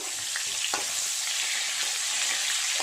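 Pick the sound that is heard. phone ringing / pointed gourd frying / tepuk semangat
pointed gourd frying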